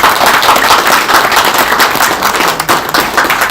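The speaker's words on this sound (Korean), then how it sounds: "힘내시라고 박수 한번 쳐주십시오." Seminar audience in a hall gives a short round of applause for bereaved families, dense steady clapping close by throughout with no talk.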